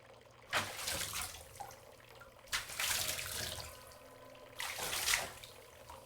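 Water splashes and pours in bursts within an audio drama scene, three loud surges of running, sloshing water, each a couple of seconds long, separated by quieter gaps, heard close and without talk.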